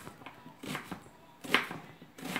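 A knife slicing through an onion on a cutting board, several crisp, close cuts in uneven rhythm, fairly quiet with no talk.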